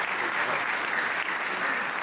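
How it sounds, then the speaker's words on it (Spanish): An audience at an evening talk on sexuality and eroticism in older adults claps in a steady, even round of applause that holds at moderate loudness from start to finish. "Un aplauso para ellos."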